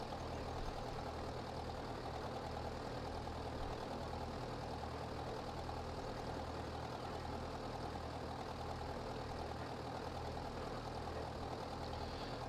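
A tractor engine in a farming video game runs steadily at a constant low chug, a faint, even mechanical rumble with no speech over it.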